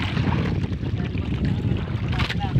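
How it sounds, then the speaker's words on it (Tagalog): A fishing boat's weak engine runs with a steady, low rumbling drone throughout, mixed with wind noise against the microphone. "Mahina daw ang makina ni Pares, ng operator"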